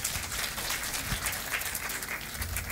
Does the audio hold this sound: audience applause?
yes